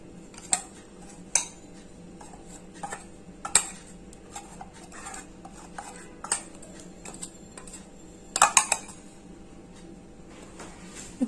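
A spoon clinks and scrapes against a pot while biryani masala is mixed into chicken, sharp metallic knocks recurring irregularly over a quiet background, close by with no voices.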